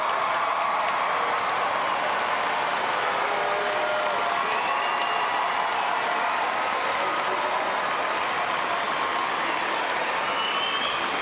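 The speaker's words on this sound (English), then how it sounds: "let's give them a great round of applause." A large crowd applauds at a 2017 high school graduation ceremony, steady and dense clapping with faint cheers mixed in, filling a big hall from start to finish.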